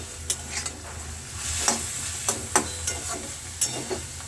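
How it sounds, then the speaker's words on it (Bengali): Fish stir-fried in an oily spice masala in a pan, a steady sizzle broken by repeated scraping strokes of a spoon at an irregular rhythm, close by with no voices. "এবার আমি মাছগুলো দিয়ে দেবো মাছগুলো দিয়ে ভালো করে একটু কষিয়ে নেব"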